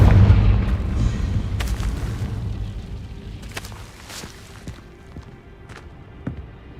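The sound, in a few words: Confringo blasting spell explosion from a video game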